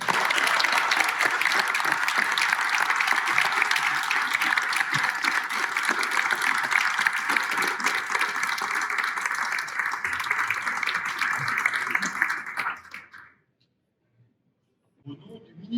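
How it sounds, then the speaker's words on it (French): An audience at a French medal ceremony honouring an agriculture knight breaks into sustained, loud, even applause for about twelve seconds, then it cuts off into silence with a faint stir at the end. "sous vos applaudissements"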